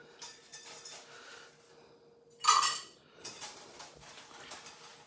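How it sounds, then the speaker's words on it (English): Cracked ice dropped into a metal Boston shaker: one loud close clattering clink of ice hitting metal, then scattered lighter rattles and chinks, with no talking. "And then we put in cracked ice."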